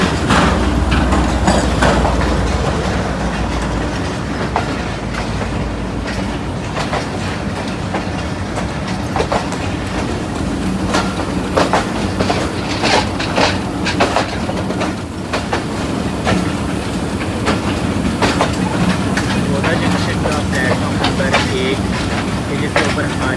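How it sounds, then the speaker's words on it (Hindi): The Mianwali Express pulls out of a station in Pakistan, a loud, continuous rumble with rhythmic clickety-clack of wheels over rail joints that builds over many seconds, with a voice speaking at times over it. "अब हमारी मियांवाली एक्सप्रेस निकलेगी यहाँ से"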